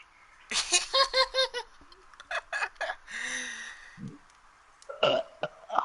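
A string of loud, close burps in quick rhythmic bursts, followed by scattered vocal noises and another short burp, with no speech.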